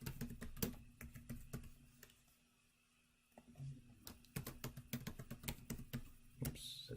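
Someone types a password on a computer keyboard with soft, close key clicks in quick bursts. A short pause breaks the typing before it resumes.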